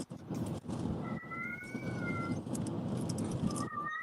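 A female cat meows unhappily a few times, drawn-out and fairly faint, against indoor background noise.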